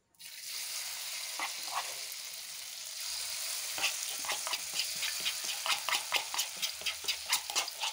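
Tofu coated in egg frying in hot oil, a steady close sizzle with irregular popping and spattering crackles that grow busier toward the end, with no talking.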